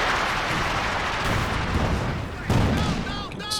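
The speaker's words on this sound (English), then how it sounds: "double ISGs barraging and some solid hits in on the mortar" Double infantry support guns barraging in Company of Heroes 2, a dense rumble of artillery impacts and blasts with a sharper hit midway, under a caster's fast commentary.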